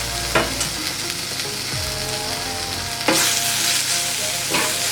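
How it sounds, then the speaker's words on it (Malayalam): Eggplant and tomato frying in a pan, a continuous close sizzle with occasional scraping stirs of a spoon against the metal. "വഴുതനയും തക്കാളിയും കൂടെ ഒരുമിച്ച് ചേർത്ത് കൊടുക്കുക"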